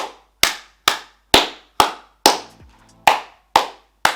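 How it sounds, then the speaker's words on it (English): Sharp hand claps, eight in all, spaced evenly about every half second, loud and close, with a brief low murmur between the fifth and sixth claps. "He also claps like this."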